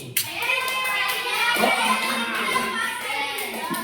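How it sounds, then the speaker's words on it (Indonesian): Classroom of fifth-grade students applauding two classmates, a steady wash of clapping from many small hands with children's voices mixed in throughout. "beri tepuk tangan buat Ilyas dan Deli"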